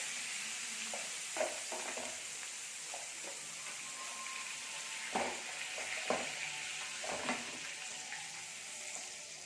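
Crab fries in a pan with a steady, fairly quiet sizzle, broken by a few soft clinks and stirring knocks throughout, with no talk.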